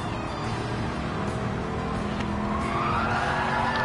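A race car in the Gran Turismo 7 racing game revs at full throttle, a steady loud engine drone holding on with a rising whine near the end and a hint of tire squeal.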